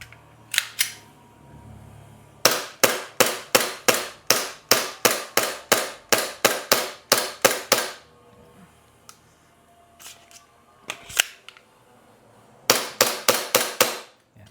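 An Umarex-licensed Glock airsoft pistol being test-fired: close, sharp snapping shots in a fast string of about fifteen, then a few scattered single shots, then another quick burst of around six.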